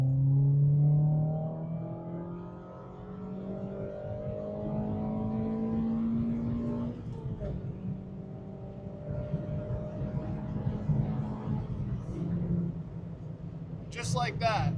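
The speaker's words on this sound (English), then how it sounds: "Go ahead and run out third gear for you." A Mazda MX-5 Miata ND Club Sport engine climbs steadily through third gear from inside the cabin, its rising drone lifting over several seconds before easing off, with someone talking over parts of it.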